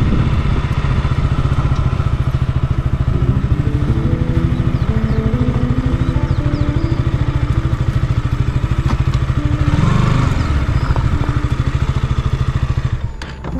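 A motorcycle engine thrums steadily at close range with a rapid pulsing beat, rising briefly in revs near the end before easing off.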